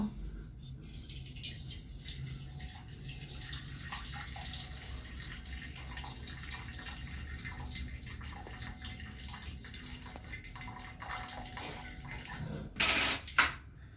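Water is drained off boiled spinach in a home kitchen, a steady splashing pour that runs throughout, with a couple of sharp pot or utensil clanks near the end.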